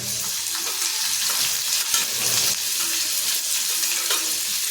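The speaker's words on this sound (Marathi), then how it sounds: "आता आपण यात कांदा टाकायचा आहे." Onion frying in a hot pan for a fish curry gives a steady, close crackling sizzle with bright hiss, broken by a few short stirring scrapes and no voices.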